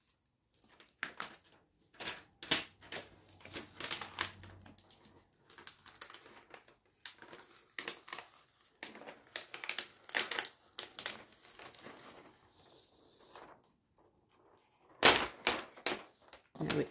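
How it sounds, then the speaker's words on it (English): Transfer tape is peeled up from a holographic vinyl design in crackly, crinkly bursts, close and uneven, with quiet pauses between pulls and a sharper rip near the end. "So grab your transfer tape and pull it up"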